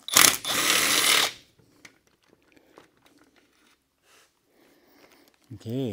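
A power wrench bursts on loudly for about a second on a 1969 Cuda's 440 engine, a harsh rapid mechanical rattle, followed by quiet clinks and handling noises, with a brief spoken word near the end.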